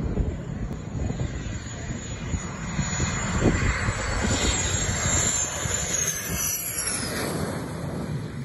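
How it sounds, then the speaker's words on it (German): A Dragonfly combat jet flies past with a steady, loud engine roar and a high whine that sweeps across overhead, swelling in the middle before fading slightly toward the end. "Das ist ein weltweit bekanntes Kampfflugzeug mit dem niedlichen Namen Dragonfly."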